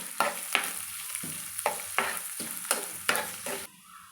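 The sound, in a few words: onions and green chillies frying in a pan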